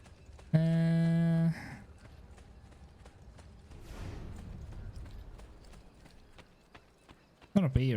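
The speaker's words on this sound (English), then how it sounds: "That horse was trying to actually walk up." Horse hooves clip-clop in quick, steady steps in Assassin's Creed 2, through the middle of the clip, between a loud sustained tone at the start and a brief burst at the end.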